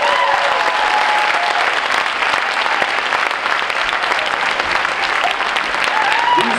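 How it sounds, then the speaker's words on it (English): Audience applause for student ambassadors at a leadership event, sustained loud clapping from a large crowd throughout, steady and even with a few faint voices mixed in. "Can you please give them a huge round of applause?"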